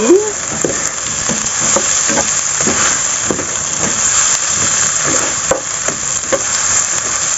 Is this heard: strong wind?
no